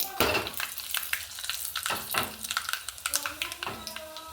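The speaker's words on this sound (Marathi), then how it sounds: "याला पण व्यवस्थित चांगलं तळू द्यायचं आहे. हे बघा आपला तडका तयार होत आहे." Red chillies sizzle and crackle in hot oil for a tadka for khaman dhokla, with steady frying hiss broken by a series of sharp taps and stirring knocks from a spoon against the pan, close up.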